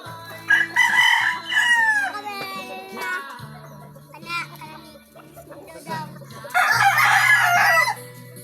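Pet chickens cluck and a rooster crows in loud, strained bursts close by, with a low steady hum and occasional voices behind them.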